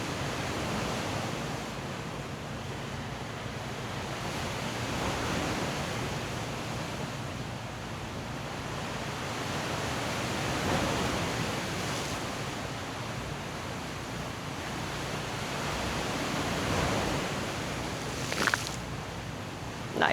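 Steady broadband wash of ocean surf rolling onto the shore during an outdoor yoga class by the sea, a continuous soft roar with gentle swells rising and falling.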